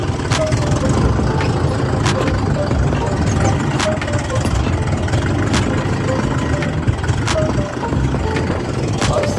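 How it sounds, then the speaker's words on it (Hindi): Tractor engine running steadily at idle, a loud continuous diesel rumble with faint periodic knocks, nearby and unbroken throughout. "पहले तो करना है ट्रैक्टर को स्टार्ट।"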